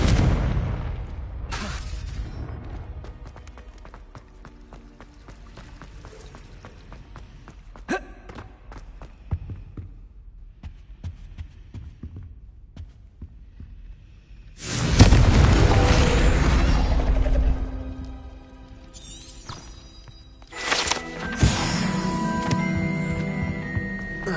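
Spell explosions from Incendio and Confringo casts in the Hogwarts Legacy video game: scattered booms and thuds over a low ambient bed, with a loud blast burst near the middle and another dense burst toward the end.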